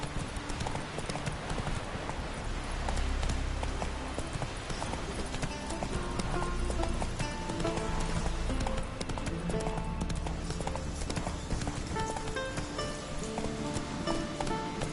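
Roach, Geralt's horse in The Witcher 3: Wild Hunt, gallops with a steady, rhythmic clip-clop of hooves over a dense game soundscape, with faint voices now and then.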